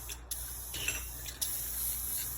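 A spray can hisses close by as it coats the rusty tailgate of a Toyota pickup. Short bursts and longer sprays sit over a low hum of background noise.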